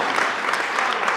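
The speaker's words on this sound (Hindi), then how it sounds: "एक बार हौसला अफजाई कर दीजिए जोरदार तालियों से यहाँ के।" Brief burst of audience applause at a mushaira, a dense patter of many hands clapping together at even loudness for about a second.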